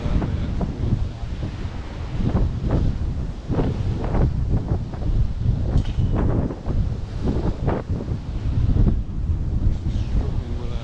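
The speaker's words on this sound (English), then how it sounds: "it really is blowing really strongly because it's very, very windy" Strong wind buffets the microphone on a beach at Cala Ratjada, Mallorca, in loud, continuous gusty roaring with surf faintly mixed beneath.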